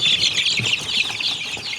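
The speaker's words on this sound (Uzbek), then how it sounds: "Jo'jalarimiz hammasi sog'lom." Twenty-two-day-old chicks raised at home chirp and peep together in a busy, continuous high-pitched chorus, close and fairly loud, with no talking.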